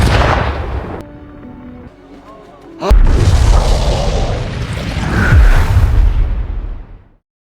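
KDF fighter jets attacking in an Ultraman show: a sharp impact, then a loud rumbling explosion with swelling roar and whooshing debris that fades out after several seconds.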